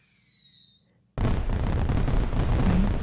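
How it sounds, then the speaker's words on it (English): Fireworks burst suddenly after a near-silent lead-in with a faint high whistle, then a loud, dense, continuous crackling and booming roar carries on to the end, with no talk. "Right? The fireworks."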